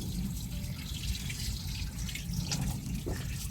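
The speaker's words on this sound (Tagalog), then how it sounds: "O galing sa gripo." Tap water runs steadily from a faucet, used for flushing a clogged car radiator; a close, constant splashing stream with no speech over it.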